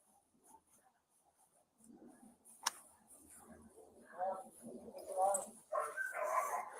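Dogs inside a house bark and whimper in short, scattered bursts at moderate distance, building toward the end, with people talking and a sharp tick partway through.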